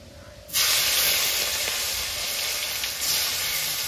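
Chopped tomato drops into hot oil with bay leaves, dried red chillies and cumin, setting off a sudden loud hiss that holds as a steady bright sizzle and swells again briefly near the end.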